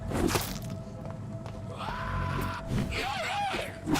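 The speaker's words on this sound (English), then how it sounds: "So you scream." A character in the video game Vampyr lets out screams and yells, loud and close, with a strained, sustained cry midway and shorter shouts at the start and end over game background sound.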